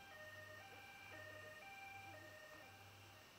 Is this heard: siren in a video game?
yes